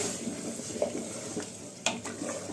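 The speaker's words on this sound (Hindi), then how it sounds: "अब इसको अच्छी तरह से भून लीजिए।" Marinated beef for Hyderabadi haleem is sautéed in a pot, giving a steady sizzle with occasional scrapes and stirring clinks close by, with no voices.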